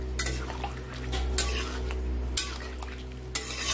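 A spoon stirs potato and pointed gourd mustard curry in a pan, giving a few sharp scrapes and knocks against the metal over a steady low hum and faint simmering.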